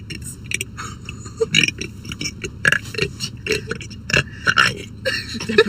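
A girl burping repeatedly, a string of loud, rough, voiced belches in irregular rhythm, close up, with brief gaps and little else in between.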